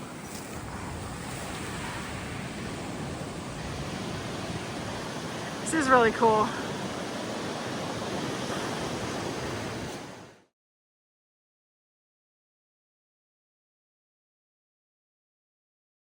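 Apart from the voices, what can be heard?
ocean waves surging in along the coast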